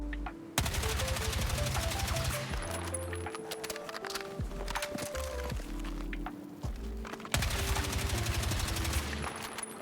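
A TR7 assault rifle firing full auto in the Battlefield 6 video game, a rapid rattling burst of gunfire that runs almost continuously for several seconds, breaks briefly, then starts again, loud and close with game music underneath.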